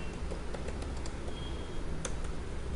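Quiet, rapid tapping of computer keyboard keys as code is typed, a soft irregular clatter of keystrokes over low background hiss, with no talking.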